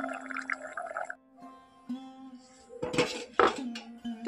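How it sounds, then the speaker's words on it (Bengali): A metal lid clinks back onto a cooking pot of drumstick curry, with two bright, close metallic clatters near the end, after a stretch of tonal background sound that may include a nearby voice. "এখন আবারও ঢাকনা দিয়ে দেব।"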